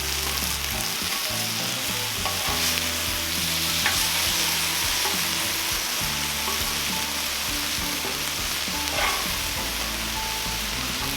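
Chicken fajitas sizzle steadily on a Cuisinart 360 griddle outdoors, a loud, continuous frying hiss with occasional scraping and stirring clicks, no talking.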